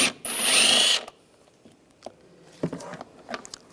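A power tool drives a 10mm socket to remove nuts on a 2001-2006 BMW 325xi engine during a spark plug job: one short whirring burst, then faint clicks and small metallic handling noises nearby.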